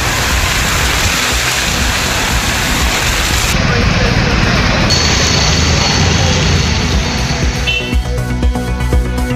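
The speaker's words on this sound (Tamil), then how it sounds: "தொடர் மழையால் திற்பரப்பு அருவியில் ஆர்வரித்து கொட்டும் தண்ணீர்." Water pours down Thirparappu waterfall after days of continuous rain, a loud steady roaring rush that fills the whole clip alone, with no voices.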